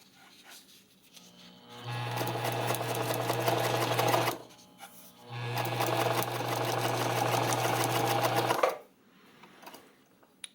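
A Pfaff 230 sewing machine drives its needle through doubled-over leather in two steady bursts of fast, rattling stitching, each a few seconds long. A short pause separates the bursts, and the machine stops cleanly at the end.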